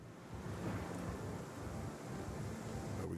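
Rain and rumbling thunder in the space game Star Citizen, a steady wash of rainfall with low rolling thunder underneath, fairly quiet and constant with no voices.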